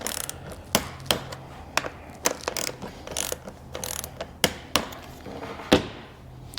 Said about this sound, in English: put the last little crank on with the torque wrench.